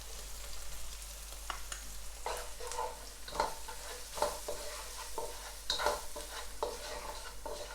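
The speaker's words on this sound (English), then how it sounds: "I'm gonna mix in all of that ginger, all of that garlic, that onion to combine with that curry powder" Onion, ginger, garlic and curry powder fry in a pot for chicken curry while being mixed, a steady close sizzle broken by repeated scraping strokes of the spoon at an uneven rhythm.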